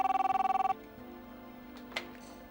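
A telephone rings at home in a fast electronic warble, a rapid train of about a dozen pulses that stops abruptly, followed by quiet room tone with faint handling noise.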